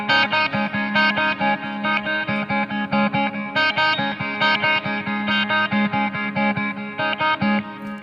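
Clean, bright electric guitar on the bridge pickup plays sustained verse chords with effects and echo, loud and steady with rhythmic picking and no talking.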